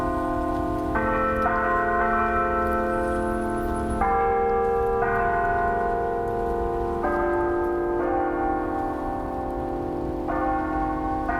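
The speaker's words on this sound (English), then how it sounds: "The bells first rang a verse from the hymn Amazing Grace, then tolled 3 times in memory of the players who were killed." Church bells at a university chapel near the rotunda play a hymn melody in steady changing chimes, loud and sustained, with a constant rain-like wash of noise underneath and no talking.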